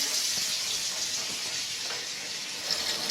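Hot water runs from a tap into a kitchen sink, a steady hissing rush at close range that holds fairly even and swells slightly near the end.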